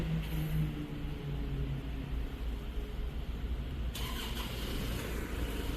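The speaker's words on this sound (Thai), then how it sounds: "รถทำการสตาร์ทแล้วนะครับผม" An Isuzu D-Max pickup engine, started by remote, cranks and catches, then settles into a steady idle; moderately faint, with no voices.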